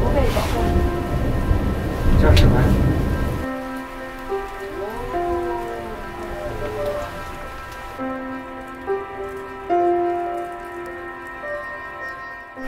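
A heavy rainstorm in the Dolomites, with dense, loud rain hissing for the first few seconds before it cuts away to quieter, steady tonal sounds.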